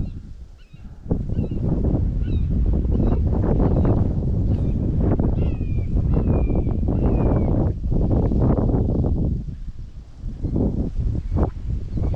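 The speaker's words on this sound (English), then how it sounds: "that wind is cold" Cold wind blows outdoors and buffets the microphone in a steady, loud rumble that lasts through most of the stretch, with faint higher calls, like honking fowl, in the background and no talking.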